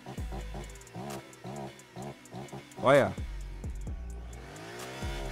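Honda Africa Twin motorcycle engine in a Brazilian mobile motorcycle game, revving repeatedly in short rising bursts with a louder peak midway, while someone talks over it.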